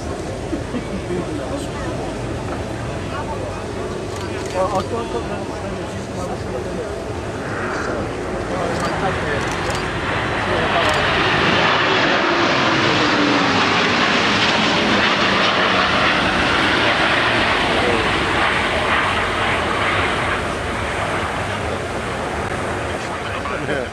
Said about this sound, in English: On the KC135 in line there with Fairford runway. It looks like he's coming in clean.